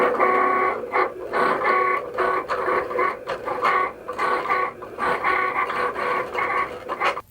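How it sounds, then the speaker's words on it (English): A Cricut cutting machine cuts glitter heat transfer vinyl, its carriage whirring in short repeated back-and-forth bursts with quick pauses, close and moderately loud, without any talking. "So now we can cut the glitter HTV with our Cricut."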